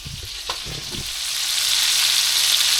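Food fries in a pan aboard a boat, with a few soft utensil knocks early on, then a steady hiss of sizzling oil that swells and holds loud to the end.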